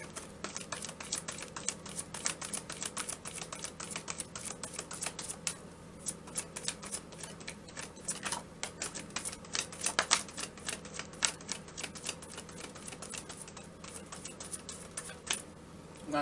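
Tarot cards are shuffled, a rapid stream of crisp, dense clicking and riffling snaps that pauses briefly partway through, fairly close and faint, with no voices.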